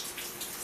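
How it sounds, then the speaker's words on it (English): Tap water runs steadily into a sink while hands are washed, a continuous close hiss of flowing water with no pauses. "distracted because I'm washing my hands"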